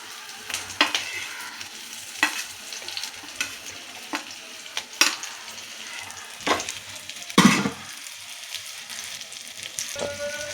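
Potatoes and eggplant, already fried, go into a pan with bitter gourd and drumstick, sizzling steadily while a spoon scrapes and stirs in irregular clattering bursts; no one speaks.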